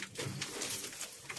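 Soft, low pigeon cooing in short rounded phrases, fairly quiet and close, with faint background noise and no talk.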